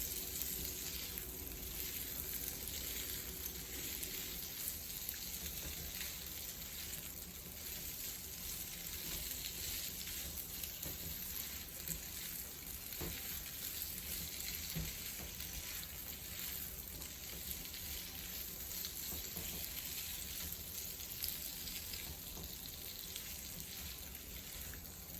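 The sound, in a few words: potatoes sautéing in pan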